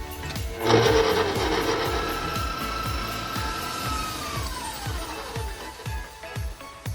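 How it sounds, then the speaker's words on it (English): Electric hand mixer running on low speed through cocoa powder, sugar and melted butter for a no-bake chocolate biscuit cake, a steady motor whir with rhythmic beater knocks against the bowl and a pitch that sags toward the end. "now I add the cocoa powder. Mix it again on low speed."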